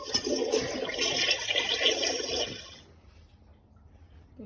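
A toy toilet in a Barbie Dream House flushes with a rushing, gurgling gush of water for about three seconds, then cuts off to near silence.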